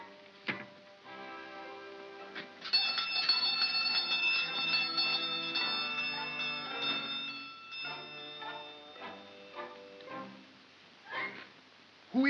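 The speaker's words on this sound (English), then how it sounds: "Ring the bell." A bell chime rings at a front door at night in an old musical fantasy film, its bright sustained ringing tones layered with harmonic music and swelling and fading over several seconds.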